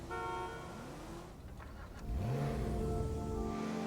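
A FiveM video game car locks with a horn chirp: a short tonal toot, then a rising engine-like sweep, heard up close over a steady game background with no talk.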